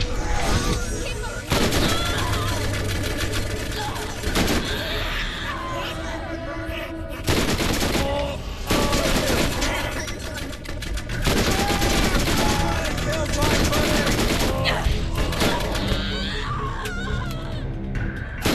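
Shotgun fire in Borderlands with the Pandora Reimagined mod, a dense run of loud, rapid blasts and impacts that fill most of the stretch, broken by a few brief lulls, with game effects layered throughout.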